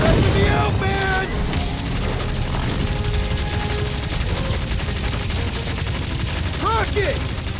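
Video game combat in Marvel's Guardians of the Galaxy: dense, continuous gunfire and blasts roar loudly throughout, with scattered whistling, sweeping tones and energy effects layered on top, no clear pauses.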